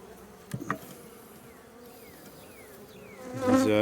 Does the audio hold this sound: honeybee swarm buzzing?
yes